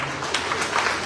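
Audience applause at a parish family-fellowship and devotional association anniversary in Muttam, a steady spread of many hands clapping at moderate level through the whole stretch, with no voices rising above it.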